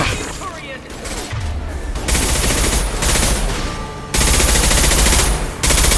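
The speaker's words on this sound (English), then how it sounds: "Firing a high-impact shot!" Heavy bursts of automatic gunfire in Mass Effect 2 on Illium, loud and sustained with short gaps between volleys, set against mechanical clatter.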